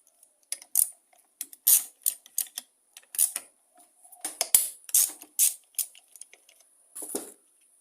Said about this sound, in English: So what we need is an 8mm socket. We've got two nuts here, one there and one there. We'll undo those.